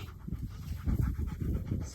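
A dog pants steadily on a winding trail walk in the Appalachian Mountains. The quick, rhythmic breaths are close and fairly quiet, with no other sounds.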